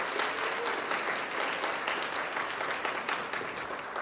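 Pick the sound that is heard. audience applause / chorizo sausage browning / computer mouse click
audience applause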